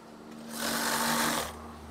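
A sewing machine stitches curtain fabric in one continuous whirring burst of about a second, rising in and stopping abruptly, with a low mains hum underneath before and after.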